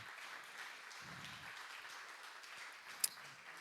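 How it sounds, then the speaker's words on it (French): A church congregation claps in a steady, faint patter of applause heard from a distance, with a brief sharp knock near the end. "On va l'encourager, on va l'applaudir."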